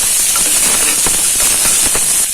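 Onions and other ingredients for banana flower kurma sizzle in a hot pan, a steady loud hiss with faint stirring clicks, and no voices.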